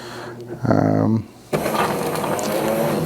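A Jura J8 coffee machine grinds beans for espresso, first a buzzing, rattling motor burst with a pulsing tone, then a longer, steadier grinding whir that fills the rest.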